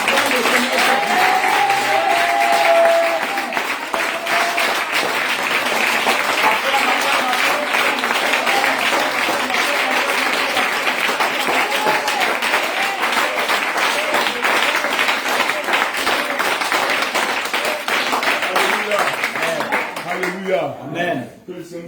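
A congregation at a night prayer service of repentance in Zuénoula claps and cheers in acclamation of the Lord, continuous and loud, with voices calling and singing among the applause before it thins at the end.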